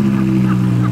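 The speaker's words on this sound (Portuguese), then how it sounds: "Não, eu ia diminuir esse escapamento. Tá muito alto, tá doido." A steady, loud, deep drone from the exhaust of an Audi R8 running at a car dealership, lasting the whole second with no break.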